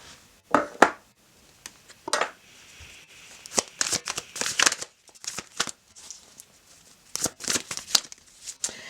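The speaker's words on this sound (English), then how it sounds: "now I will throw some cards on the judgment card reading" Tarot cards are shuffled and laid down on a table in bursts of crisp riffling and soft slaps, close and fairly quiet, separated by short pauses.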